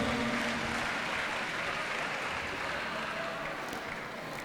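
Students in a vocational high school classroom clap together, a quiet, steady patter of applause that runs unbroken and stays fairly distant.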